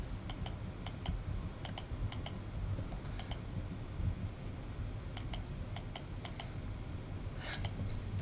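Fast bursts of computer keyboard typing at a cramped desk, quick clustered clicks in short runs separated by pauses, steady and fairly close over a constant low background hum.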